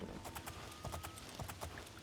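Steady hoofbeats of the horse Shadowmere clip-clop in Oblivion, a soft, quick, even rhythm of light knocks at low volume over a faint game backdrop.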